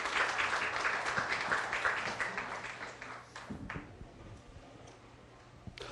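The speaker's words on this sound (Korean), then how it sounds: "큰 박수로 맞아 주십시오." Audience applause welcoming a speaker at a church training session in Masan, a steady dense clapping from a crowd that fades over several seconds, leaving a few scattered claps.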